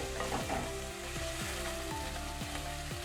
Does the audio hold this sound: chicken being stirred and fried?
yes